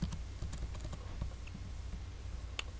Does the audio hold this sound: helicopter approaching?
no